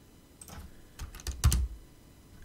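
A short burst of keystrokes on a computer keyboard entering a command, a few quiet close clicks and taps with one louder cluster, no talking.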